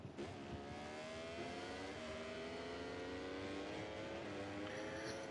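A Ducati racing motorcycle in MotoGP 24 at the Austrian Grand Prix screams at high revs, its engine note climbing steadily through the gears in one continuous, loud, close stretch.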